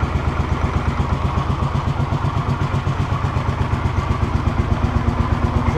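A cold 1982 Honda CX500 motorcycle idles while warming up at around 900 rpm. Its loud, close, steady pulsing throb has a mechanical clatter layered over it and carries on unbroken, with no one speaking.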